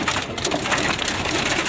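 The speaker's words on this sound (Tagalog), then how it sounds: "Guys, umuulan ng yelo, gagi. Gagi kalakas." Hail falls hard during a storm in Bocaue, Bulacan, a dense, loud, continuous patter and clatter on surfaces nearby.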